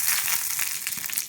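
Mustard seeds splutter in hot coconut oil while a Tamil radish-leaf buttermilk kootu is being tempered, making a close, dense, crackling sizzle with rapid popping throughout and no talk over it.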